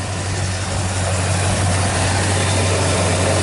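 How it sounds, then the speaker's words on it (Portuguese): A vintage Dodge car engine idles steadily with a low, even rumble, close by and alone with no talk. "Vou mostrar um pouco o motor."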